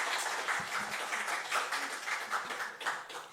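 Church congregation at a Korean church in Manhattan applauds, a moderate, fluttering patter of many hands clapping steadily, fairly soft and without speech over it.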